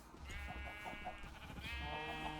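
Several sheep bleat in a Minecraft game, the wavering bleats repeating in quick succession against steady background game sound.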